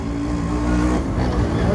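A modified Yamaha RX 100 motorcycle ridden through an alley, its two-stroke engine producing a loud, steady, raspy drone held at close range, with someone talking over it.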